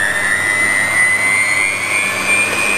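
An electric stand mixer whirs steadily as it beats banana cake batter, a loud, constant motor whine with a high tone that rises slightly over a few seconds, heard up close with no talking.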